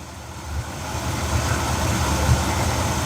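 A car engine idles steadily while its idle mixture screw is turned a little at a time for the cleanest burn and highest vacuum, giving a continuous low rumble with a slight swell partway through and no talk over it.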